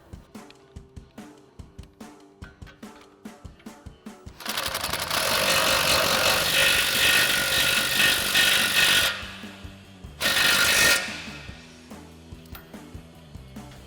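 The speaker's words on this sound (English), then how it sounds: "tighten down our upper control arm ball joint mounting nut with our 18mm socket and swivel adapter on our impact" An impact wrench with an 18mm socket and swivel adapter rattles on a truck's upper control arm ball joint nut, a long loud burst and then a short second one, after a run of small clicks and handling noises.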